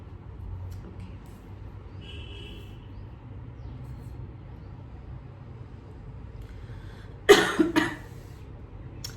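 A short burst of coughing, two or three harsh coughs near the end, after a long stretch of quiet room hum.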